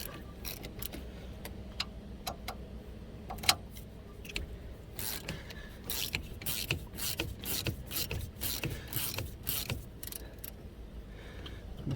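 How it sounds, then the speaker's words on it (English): A 7mm hex tool breaks loose the front brake caliper bolts on a 2005–2010 Mk5 Volkswagen Jetta. Close, faint metallic clicks and ratcheting ticks mix with scraping and shuffling handling noises, with no voices. "grab your 7mm hex. And break those bolts loose."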